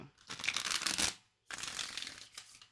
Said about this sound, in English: I just don't like these shuffles.